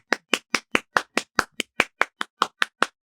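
Thirteen sharp hand claps in a steady, even rhythm, close and crisp, each one separate with no other sound between them.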